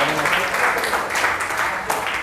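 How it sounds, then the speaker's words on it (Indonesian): Applause in a classroom during a lesson, students clapping together in a steady, fairly loud burst that continues throughout with no break. "Tepuk tangan dulu untuk Mas Raja."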